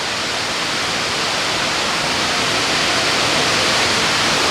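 A waterfall near Ottawa roars as a steady, loud wash of broadband rushing water, heard from a river cruise boat, with no pauses or voices.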